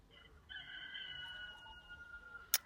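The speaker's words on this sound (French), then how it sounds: "Il y a un coq qui chante." A rooster crows once in the distance, a thin drawn-out call that rises and holds, faint over quiet room noise and followed by a brief click.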